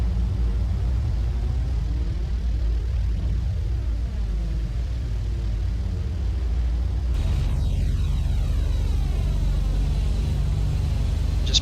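A Dash 8 Q400 turboprop taxiing in Flight Simulator X: a steady, loud engine rumble and hiss with slowly sweeping tonal whine, continuous throughout and without talk.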